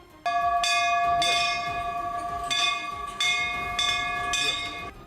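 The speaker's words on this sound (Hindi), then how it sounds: "मंदिर में आए एक श्रद्धालु ने बस घंटे की तरफ हाथ उठाया और बिना छुए ही घंटा बजने लगा।" A temple bell, struck by a lever that a hand-wave sensor sets off, rings close and loud in a string of bright metallic strikes about every half second, with each long ringing tone overlapping the next.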